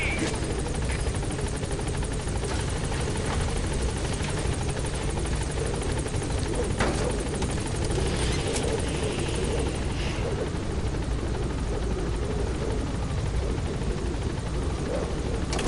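Helicopter hovering at a landing zone in the Metal Gear Solid V video game, a loud continuous rotor thump and engine whine holding steady throughout, with faint radio chatter underneath.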